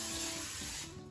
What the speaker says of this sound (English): I'm just gonna spray the crock pot real quick.